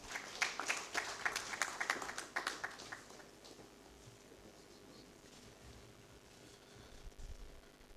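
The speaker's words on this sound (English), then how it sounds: "Another round of applause for him." Audience applause at a builders' council annual general meeting, a burst of scattered claps over the first three seconds that fades to a quiet room hum, with a few faint claps near the end.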